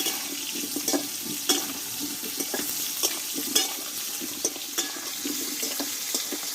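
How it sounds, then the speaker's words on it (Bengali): Pointed gourd (potol) cooks slowly in oil in a pan, with soft scraping strokes of a spatula over a quiet, watery sizzle. The sound is close and fairly faint, and no one speaks. "পটলগুলো খুব অল্প আছে আমি ধীরে ধীরে একটু কষিয়ে নেব ভালোভাবে"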